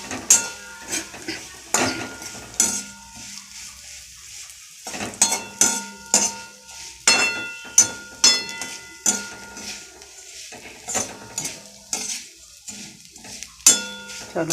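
Flattened rice (chira) fries and is stirred in a pan over low gas, with a spatula clattering and scraping against the metal in uneven bursts and short pauses, close up with no talking.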